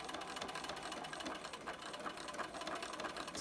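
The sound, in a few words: sewing machine sewing a fabric mask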